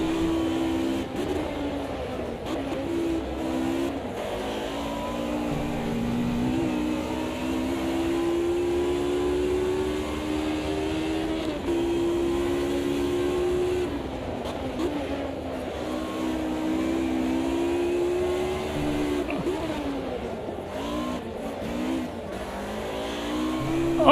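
Race car engines in the Automobilista 2 sim racing game drone steadily for over twenty seconds, rising and falling through gear changes as the car chases Audis up a hill, a constant close engine note with no talking.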